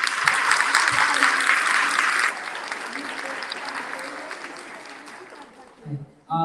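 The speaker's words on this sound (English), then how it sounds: "Let's give him another round of applause." Audience at a graduation ceremony clapping loudly and steadily, the applause thinning out over several seconds before fading, with brief voices at the close.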